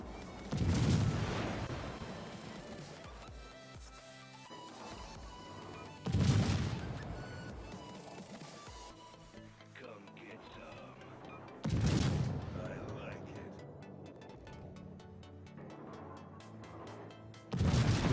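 Heavy naval gun salvos from the American cruiser USS Seattle in World of Warships: four loud, booming blasts spaced roughly five to six seconds apart, each rumbling away into a low mechanical background with no talking.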